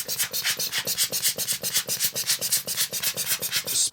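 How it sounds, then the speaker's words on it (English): A Bergeon air pump blows dust off a Rolex watch in quick rhythmic puffs of hissing air, close and loud, repeating evenly without speech. "using the air pump, basically we're just blowing away any excess air"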